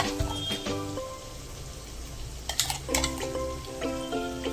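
Frying sizzle in a pan as ground mustard and poppy seed paste is added, with stirring scrapes and soft clatter, while faint background music plays throughout.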